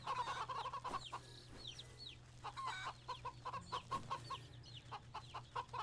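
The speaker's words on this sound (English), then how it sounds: "let's go accost the chickens" Chickens and a rooster cluck in the cartoonish video game Wytchwood, with steady overlapping clucks and squawks over a low ambient hum and no speech.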